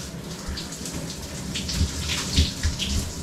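A shower runs steadily as the tap is turned toward hot, water spattering and splashing close by with irregular louder bursts.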